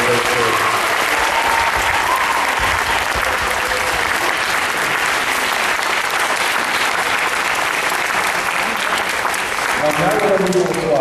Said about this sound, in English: Let's give Bobby Seale another round of applause.